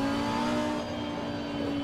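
Race car engine in Assetto Corsa Competizione accelerating, a steady loud droning whine held close with a faint rise in pitch and no talking.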